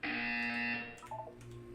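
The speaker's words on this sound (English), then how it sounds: "You will hear a buzzer." A steady electronic buzzer from the video game Portal 2 drones loudly for about a second, then fades under a softer tail.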